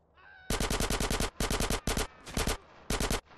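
SMG fire in the video game Grand Theft Auto San Andreas comes in loud, rapid bursts of close automatic shots, four or five strings separated by short pauses.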